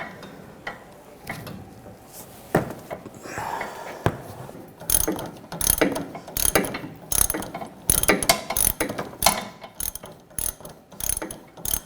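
A ratchet works an M6 triple square bolt on a Volkswagen Jetta during front sway bar link replacement: sparse clicks at first, then bursts of rapid, close, sharp clicking in uneven strokes.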